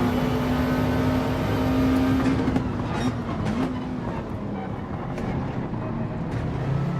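Race car in Gran Turismo 7 at Autopolis, running on worn tyres on the last lap, gives a steady loud engine drone with a rising then falling pitch as it speeds past, constant throughout.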